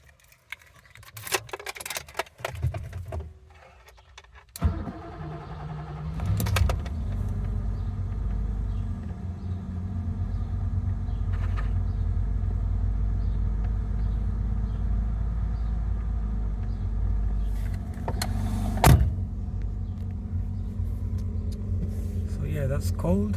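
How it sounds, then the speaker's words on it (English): A week-parked BMW E28 with Bosch L-Jetronic fuel injection and an auxiliary air valve cranks and fires on a cold start, then settles into a steady, close, low idle rumble; a few clicks come first and a sharp knock sounds partway through. "I'm gonna try a cold start"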